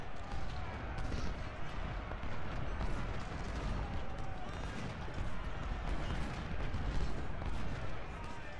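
Civil War musket volleys and artillery fire at the Battle of Antietam in Ultimate General, a dense continuous crackle of distant shots and booms.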